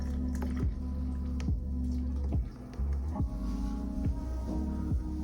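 A drink is poured into a cup for a slow-motion product shot, with soft liquid splashes and drips repeating every second or so, over a steady low background hum.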